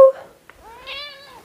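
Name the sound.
pet cat meowing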